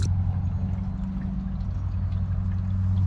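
Antifreeze drains and pours steadily out of an old Caravelle boat that sat since the 1990s, a continuous close liquid rush over a low engine-like rumble, with no talking.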